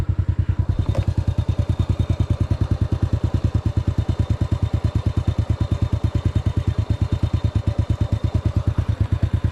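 A motorcycle engine runs steadily on a rough, uneven splitting road in Bulacan, Philippines, its rapid even low thumping continuous and close throughout, with a faint rattle and a brief clunk near the start.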